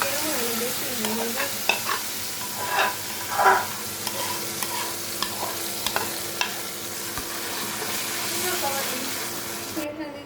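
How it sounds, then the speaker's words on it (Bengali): Taro (kochu) fries in hot tempered spices, a steady broadband sizzle under repeated scraping stirs and clinks of a utensil against the pan, with a brief voice in the background. "ফোড়ন গরম হয়ে গেছে, এখন দিয়ে দিচ্ছি কচুর ঘাটি।"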